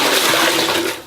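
A toilet flushing in a bathroom, filled by hand with scooped water from an outdoor supply; a steady, loud rush of water throughout, easing slightly at the end, with no talk.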